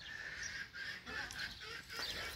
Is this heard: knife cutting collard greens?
no